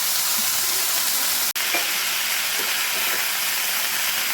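Leafy greens hiss and sizzle loudly in a hot wok, a dense, steady frying roar broken once by a brief dropout.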